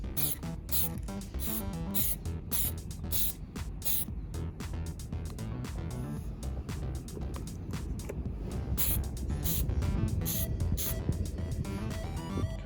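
A spray can paints a paintball mask in repeated short hissing bursts with brief pauses between them, sounding close and fairly loud over a low background rumble.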